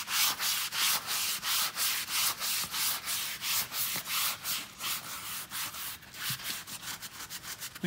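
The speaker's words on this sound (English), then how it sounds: "We choose this type of sandpaper to do it because it's quicker, because it's coarser" Coarse sandpaper rubbed by hand over the pleats of leather upholstery in a Riley Pathfinder, a steady run of quick, close back-and-forth scratchy strokes that speed up toward the end, with no talk.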